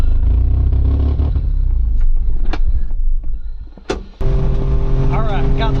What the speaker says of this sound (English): All right, got the truck going again.